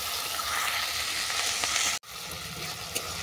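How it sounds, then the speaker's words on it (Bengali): Spice paste with chopped tomato and curry leaves fries in a pan with a loud, steady close sizzle, cut off abruptly for an instant before resuming with faint stirring scrapes. "এই সব উপকরণ আমি ভালো করে কষিয়ে নেব যতক্ষণ না মশলা থেকে তেল ছাড়ছে"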